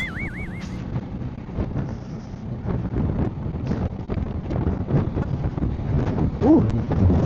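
Wind roars steadily across the microphone with a low rumbling while riding a Zontes 400G motorcycle in Metro Manila, while faint voices come and go underneath.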